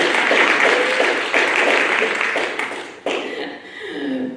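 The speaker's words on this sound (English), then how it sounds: "Round of applause." Applause from the audience at a Native authors and artists talk, sustained clapping with a few chuckles and some voices mixed in, dipping briefly before a second swell.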